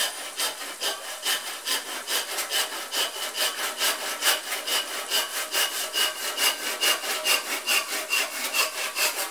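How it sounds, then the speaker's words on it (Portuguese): A hand saw cuts through wood to make a wedge for a hoe, close and steady, with about three brisk rasping strokes per second carrying on evenly the whole time and no talking. "Agora eu vou serrar essa parte aqui, ó."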